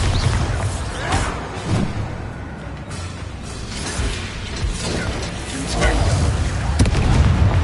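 Bombarda spell blasts in the Hogwarts Legacy video game, rumbling booms and clattering mechanical crunches in repeated surges, loud and close, mixed with battle sound effects and swelling toward the end.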